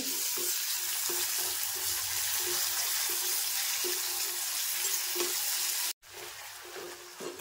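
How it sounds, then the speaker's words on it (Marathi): Tomato frying in an onion tempering in a pan, a steady close sizzle with rhythmic stirring scrapes, alone and without talk, briefly cut near the end. "आता मी एक टोमॅटो कापून घेतलाय, तो पण टाकते फोडणीमध्येच"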